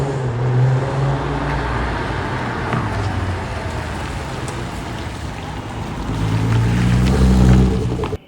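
A classic car's engine runs at a steady idle that swells louder near the end, a deep continuous rumble with no speech over it.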